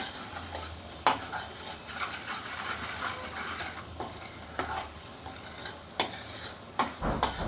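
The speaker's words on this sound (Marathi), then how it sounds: "मसाले छान 1-2 मिनटं परतून घेऊत आपण." A spoon stirs garam masala and goda masala spices frying in a pan, with steady sizzling under repeated metallic scrapes and clinks against the pan, close up and without talk.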